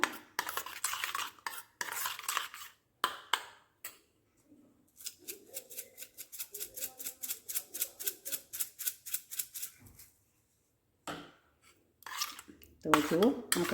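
A spoon clinks rapidly and rhythmically against a bowl while stirring tomato ketchup with ground chili powder and chili flakes into a sauce, in bursts with short pauses.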